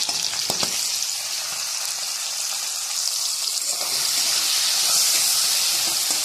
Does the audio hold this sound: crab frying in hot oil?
yes